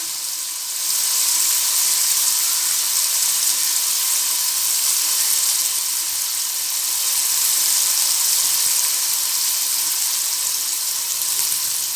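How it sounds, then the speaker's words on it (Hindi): Onions frying in a pan for Pakistani matar pulao: a steady, bright hiss and sizzle holding at an even level for the whole stretch, with no talking. "हम प्याज को फ्राई करेंगे।"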